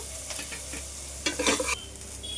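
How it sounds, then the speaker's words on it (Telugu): Onions frying in oil in a pan with ginger-garlic paste and coriander added, a steady close sizzle with stirring scrapes and a louder burst of crackling midway, no voices. "ఇందులోకి అల్లము, కొత్తిమీర, తెల్లవాయి పేస్ట్ 1 స్పూన్ వేస్తున్నాను."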